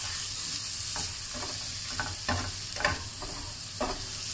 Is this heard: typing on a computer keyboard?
no